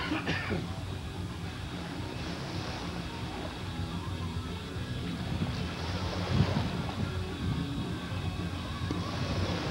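A ferry boat on Puget Sound runs at a distance, a low steady engine rumble mixed with wind and water wash, continuous and fairly faint, with some wind buffeting the microphone.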